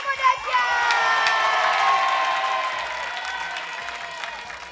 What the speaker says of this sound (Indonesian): Tepuk tangan dong buat dahsyat.